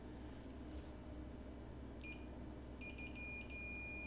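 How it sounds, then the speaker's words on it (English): A digital multimeter in continuity mode gives faint high-pitched beeps as its probes touch, one short beep followed by a longer sustained tone, heard over a steady background hum on a workbench during iPhone 6 backlight repair. "you get a beep when you put the probes together"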